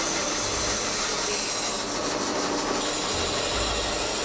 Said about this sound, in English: This bandsaw continues to impress. That was crazy. I mean, look at the clean cut.